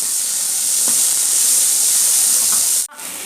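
Steady, loud sizzling hiss of onions sautéing in a hot pan, continuous for about three seconds before briefly cutting out near the end.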